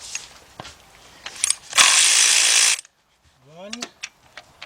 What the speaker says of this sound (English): my cordless 3/8 drive ratchet